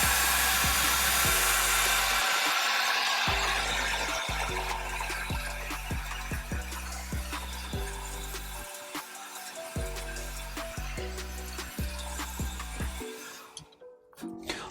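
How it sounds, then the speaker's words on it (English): A blow dryer running on its highest heat and highest airflow setting, drying hair at a barbershop, gives a loud steady whoosh that fills the whole span before cutting off near the end, with background music underneath. "I am using my highest setting of heat with my highest setting of flow on the blow dryer to get this hair as dry as possible"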